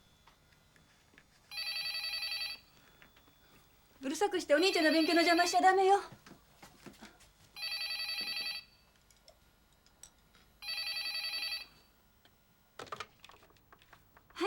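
A telephone rings in repeated bursts, several evenly spaced electronic trills with pauses between, while someone speaks over the gap in the middle.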